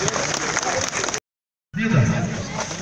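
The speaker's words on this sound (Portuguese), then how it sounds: "A salva de palmas, nosso amigo" Audience at a rodeo at a CTG in Palmital, Brazil, clapping in a dense burst, broken by a half-second dropout before the clapping resumes at a similar level.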